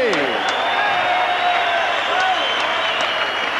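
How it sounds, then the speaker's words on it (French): A boxing crowd applauds and cheers two fighters after the bout, steady dense clapping with scattered whoops filling the arena while an announcer speaks over it. "Bonne main d'applaudissement, c'est deux guerriers."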